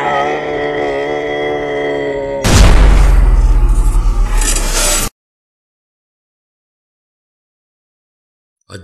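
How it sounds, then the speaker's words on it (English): A deafening explosion in the video game Scrap Garden bursts in after a sustained tonal musical passage, a loud broad boom with rumbling decay lasting about two and a half seconds before cutting to silence. "A deafening explosion jolted the air."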